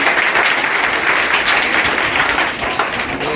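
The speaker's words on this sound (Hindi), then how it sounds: "तालियां।" Dense, steady applause from a crowd, loud and continuous throughout with no pauses.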